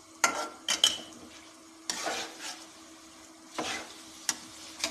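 Mash dal fries on a high flame, giving a soft ongoing sizzle punctuated by several sharp spoon strikes and scraping stirs against the pot, spaced irregularly and heard up close.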